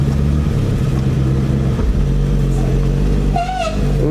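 A 1973 Ford Torino Sport Fastback engine, run after sitting three years, rumbles loudly and continuously up close, pulling away with a low droning tone and a faint squeal near the end from bad brakes.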